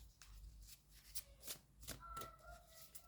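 Oracle and tarot cards being shuffled by hand, soft papery riffles and slaps in an irregular rhythm, quiet and close, with no voice.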